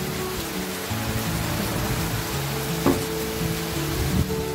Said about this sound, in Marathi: भरपूर असा पाऊस चालू आहे, जसं काही पावसाळा सुरू झालाय